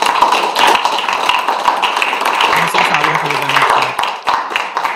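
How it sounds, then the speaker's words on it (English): An audience applauds a speaker at a global forum on a society free of nuclear weapons, with a dense patter of claps spread across the whole stretch while a voice talks over it. "We can give a big applause to Hamsumi-san"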